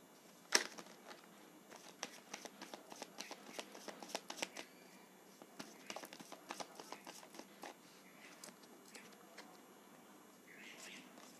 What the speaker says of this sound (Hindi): मुझे लगता है अच्छे से मैं शफल कर लूँ।